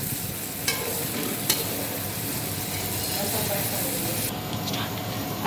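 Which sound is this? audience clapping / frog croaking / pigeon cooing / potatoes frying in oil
potatoes frying in oil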